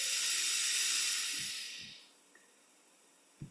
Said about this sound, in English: Breathing in to the count of 1.